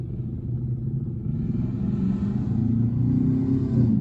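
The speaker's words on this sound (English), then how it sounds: "Whoa, that's a loud car." A loud car passes with a deep, rumbling engine roar that swells steadily and stays close and strong throughout, with no talking over it.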